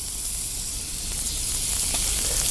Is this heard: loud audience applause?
no